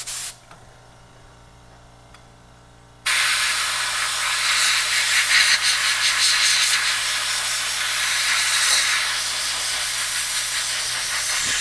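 Abrasive blasting strips loose paint from an old Mitchell fishing reel, a steady loud hissing roar that starts abruptly after a few seconds of quieter background and continues without a break.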